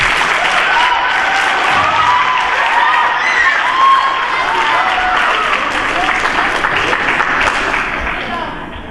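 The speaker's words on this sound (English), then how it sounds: "Can we get another round of applause for that?" Sustained applause from a large audience, dense and steady clapping with scattered cheers, fading slightly toward the end.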